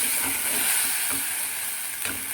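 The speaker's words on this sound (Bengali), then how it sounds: "পোস্ত বাটা আর কাজু বাটা এটা দিয়েও আবার নাড়াচাড়াতে করাতে হবে" Poppy seed and cashew paste is stirred in a frying pan, giving a steady close-up sizzle with soft scraping strokes of a spoon coming through at intervals.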